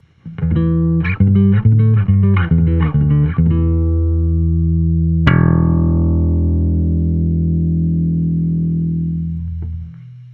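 An electric guitar through a compressor pedal with its blend knob at 12 o'clock plays a quick run of chords and notes, then one ringing chord sustains long and smooth, with a compressed, even tone.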